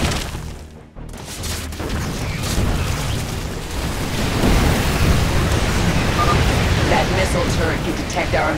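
A Dominion barricade blowing apart in StarCraft II, a deep rumbling explosion that swells and rolls on for several seconds, loud and noisy under battle clamor.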